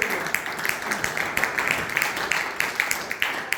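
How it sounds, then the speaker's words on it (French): A church congregation claps in a steady rhythmic beat with soft tapping hits throughout, moderate and a little distant, with a voice faintly underneath. "m'a donné une bonne main d'applaudissement"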